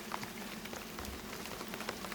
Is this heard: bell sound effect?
no